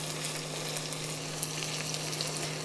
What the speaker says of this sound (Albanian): Kini kujdes kur skuqni një qepën, që t'i rini në koka në mënyrë që mos të digjet.